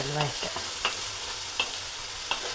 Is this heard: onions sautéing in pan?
yes